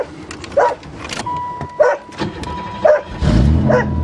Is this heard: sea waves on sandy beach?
no